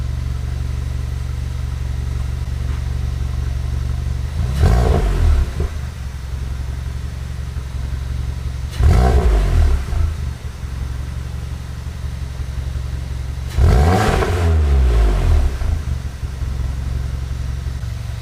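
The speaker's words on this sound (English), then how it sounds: "sounds really deep. Let's give it a rev." A VW Golf Mk7 with a Remark exhaust idles with a deep, steady drone, broken by three short, loud revs spaced a few seconds apart.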